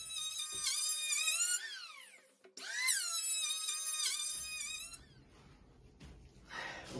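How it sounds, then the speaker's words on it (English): An electric planer shaves a wooden door down to a marked line, its motor whining loudly in two long passes with a brief dip between, then winding down into quiet. "we've done the planing. Planing is done now."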